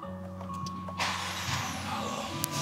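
An updated MG HS car sits at a quiet idle hum before its engine starts with a sudden broadband burst about a second in, then settles into a smooth, steady running sound close by, with no one talking.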